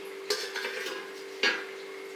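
A lid set onto a steel pot of fermenting idli batter in a home kitchen, giving two short metallic clinks about a second apart over a steady low hum.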